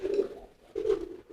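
A racing pigeon at a bird market gives two low, throaty coos, each about half a second long and separated by a short pause, heard up close with no talking.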